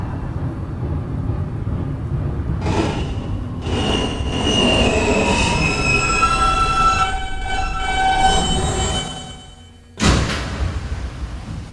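An R160 subway car on a Queens-bound N local train runs steadily and loudly, with rumbling wheels and bright, sustained metallic squeals rising and falling over the roar, then a brief drop in level before the noise surges back.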